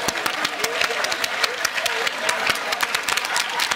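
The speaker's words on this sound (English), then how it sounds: "What are y'all clapping for?" Studio audience applause on the Family Feud game show, a dense, loud burst of many hands clapping continuously throughout with a lively crowd feel.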